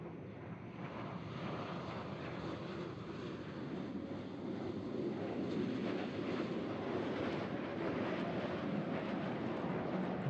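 Blue Angels jets in dirty configuration, with gear, flaps and tail hook down, make a low flat pass at practice: a steady distant roar that swells slightly as they approach, with no voices.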